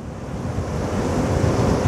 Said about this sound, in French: Wow, le vent!